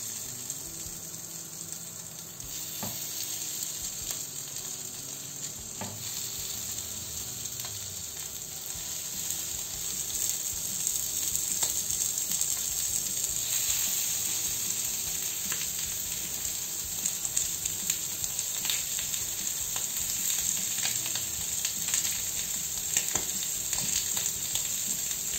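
Liver skewers fry in a cast-iron pan greased with suet, giving a steady close hiss that swells louder partway through, with a few faint clinks and no talking.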